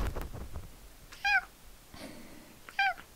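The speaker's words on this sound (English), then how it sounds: "So that's my cat." A pet cat meows twice indoors, two short, clear, close calls about a second and a half apart, with quiet room noise in between.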